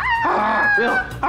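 A person's voice imitates a peacock call on a television game show: a loud, harsh, wailing cry lasting about a second, with another short vocal burst at the end.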